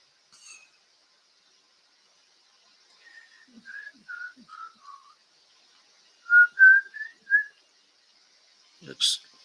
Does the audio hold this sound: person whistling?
yes